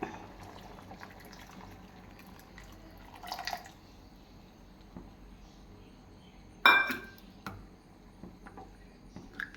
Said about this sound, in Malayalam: നമ്മൾ ആദ്യത്തെ പാല് അങ്ങ് ഒഴിക്കാം